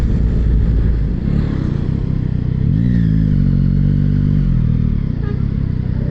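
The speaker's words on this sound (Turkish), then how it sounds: "Motoru da kafenin önüne çekelim." Yamaha MT-09 motorcycle with an automatic gearbox pulling up in city traffic in Istanbul, its engine a loud, steady close rumble with a brief rising then falling rev in the middle.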